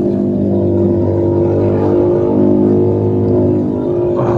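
Close, continuous engine drone from a Keeway SCR 250 motorcycle with a Rez Speed exhaust, held at a steady rev with slight swells in pitch and loudness throughout.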